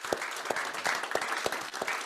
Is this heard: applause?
yes